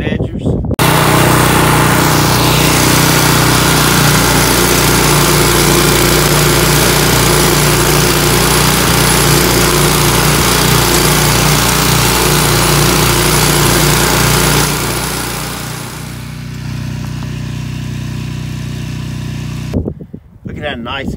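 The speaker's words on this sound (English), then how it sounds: "Just me, that mower, and Jesus." A lawn mower drones steadily as it stripes a lawn, a loud, continuous engine roar close by that dips in level near the end before cutting out abruptly.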